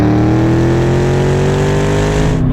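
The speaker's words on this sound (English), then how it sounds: "Now we're going to make a little bit of a wide open throttle pull just to see how that looks" A Dodge Challenger Hellcat running on flex fuel pulls at wide open throttle, its engine holding a loud, steady, rising drone with strong harmonics close by, then cutting off abruptly at the end.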